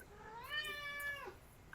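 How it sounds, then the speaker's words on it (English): A single clear cat meow, rising and then sliding down over about a second, close and fairly soft, followed by a brief click. "Meow. Cat."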